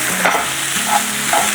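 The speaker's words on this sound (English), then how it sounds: "Medium-high heat, make sure we get that good sizzle." Breakfast sausage sizzles steadily in a pan over medium-high heat, with a spatula stirring and scraping through it a few times; the frying hiss stays loud and close throughout, with no talking.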